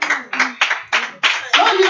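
A church congregation claps in a slow, even rhythm at a revival service, with loud unison beats about every third of a second and voices faintly under them.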